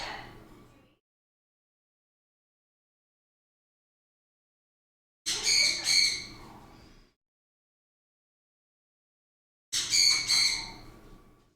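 A pet bird squawks while feeding, giving three separate harsh, loud squawk bursts spaced several seconds apart, each about a second long, with silence between them.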